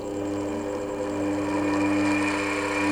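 A homemade wooden 2x72 belt grinder runs at high speed, around 4000 rpm, giving a loud, steady mechanical whine with a constant hum and no talking.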